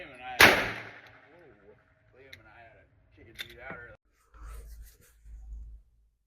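A single sharp, loud shot from a Saricam Arms S-19 pistol during a failure to extract, followed by quieter handling clicks and brief voices.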